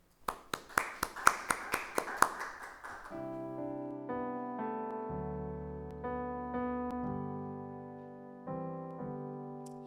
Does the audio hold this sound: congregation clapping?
yes